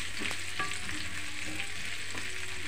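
Pork and mushroom stir-fry in a pan, with a quiet, steady sizzle broken by a few light scraping and clinking stirring sounds.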